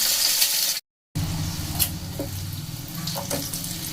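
Eggs shallow-fry in a pan with a steady, close sizzling hiss that breaks off briefly and then resumes, with a few faint clinks and no talking.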